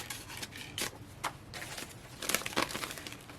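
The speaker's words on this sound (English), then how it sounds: "Christmas cello bag." A Christmas cellophane bag is handled up close, giving repeated crinkly rustles and crackles in short bursts.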